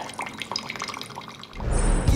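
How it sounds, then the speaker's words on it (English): Wine pours from a bottle through a Coravin needle, starting as a light trickle and dripping, then swelling into a louder, fuller gush of liquid near the end. "You just puncture and pour."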